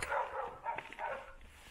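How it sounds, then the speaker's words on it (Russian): A dog outdoors on a summer walk in Karelia, Russia, gives a few soft barks and yips in a quick cluster, moderately close, with no talk over it. "Видишь, ты, собака."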